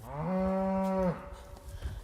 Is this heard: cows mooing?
yes